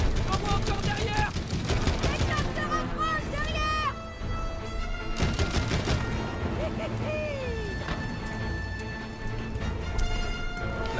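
Gunfire from a turret in the co-op video game It Takes Two comes as rapid bursts of shots over busy game music and effects, while players talk throughout.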